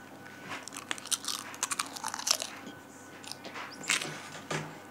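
Lay's tomato flavoured potato chips crunched in close, irregular bites, a steady series of crisp snaps and chewing with no talk.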